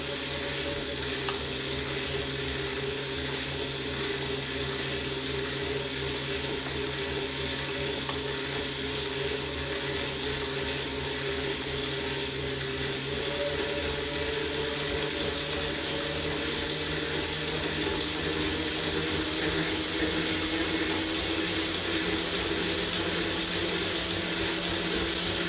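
A Tacx NEO 2 smart bike trainer spins at a 20 mph flywheel speed, giving a steady, even whir and hum with light chain and drivetrain rustle that stays constant throughout.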